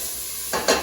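Turkey curry ingredients sizzling in a pan on low heat, a soft steady frying hiss that swells in two brief louder bursts as the food is stirred, with no talking.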